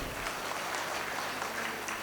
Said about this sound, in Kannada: ಒಂದು ಸಲ ಜೋರಾದ ಚಪ್ಪಾಳೆ ಇರಲಿ ಅವರಿಗೆ